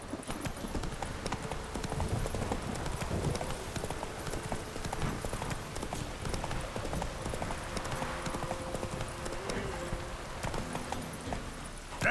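Roach, Geralt's horse in The Witcher 3, galloping: rapid, continuous hoofbeats drumming steadily over a noisy game soundscape, moderately loud and sustained throughout.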